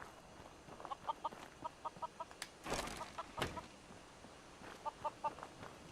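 A chicken clucking in the video game Fallout 4, a string of short, faint clucks in quick bursts of three or four with a brief flurry of wing flaps partway through, set against a quiet outdoor backdrop.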